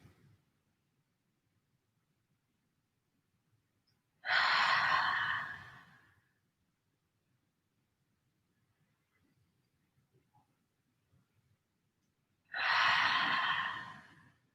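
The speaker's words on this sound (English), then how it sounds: "Take a few more nourishing breaths here." Two slow, deep breaths during a guided relaxation stretch, each a soft, airy exhale of about two seconds, close and quiet, separated by a long near-silent pause.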